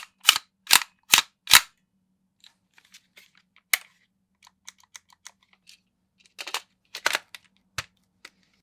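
A Tokyo Marui NGRS MP5 airsoft gun fires a rapid full-auto burst of four sharp, loud cracks, then fainter mechanical clicks follow, and two more close snapping shots come near the end.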